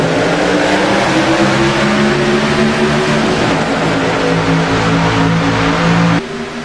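Race cars accelerating off the line at a green flag start, a loud, dense roar of engines climbing in pitch together and holding for several seconds before easing slightly.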